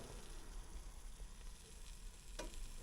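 Food sizzles faintly inside a Cosori dual-basket air fryer, a soft continuous crackle and hiss with a brief sharp click near the end.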